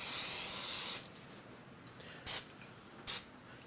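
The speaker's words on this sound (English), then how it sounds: "spray your tin." Cooking spray hissing onto a cupcake tin: one long close spray of about a second, then two short sharp bursts after a pause, with quiet in between.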